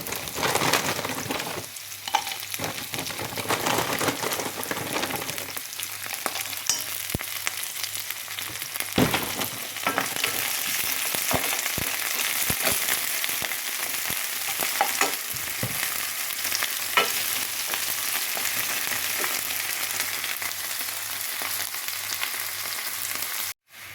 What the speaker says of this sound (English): I put olive oil and then I am now sautéing the garlic and onion